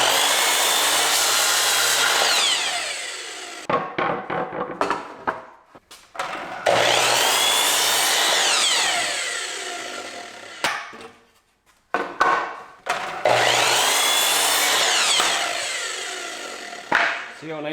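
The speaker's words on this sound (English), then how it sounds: "See how nice that is with a miter saw?" A miter saw rips through wooden boards three times in succession, each cut a loud sustained whine, separated by short clattering handling sounds and a brief pause between cuts.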